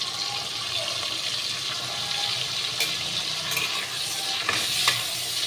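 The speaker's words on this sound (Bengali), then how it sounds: "চিংড়ি মাছ খুব বেশি ভাজতে নেই, হালকা করে ভাজবো" Prawns frying lightly in a large wok with salt and turmeric give a soft, continuous sizzle with occasional stirring scrapes and clicks near the end, fairly quiet and without talk.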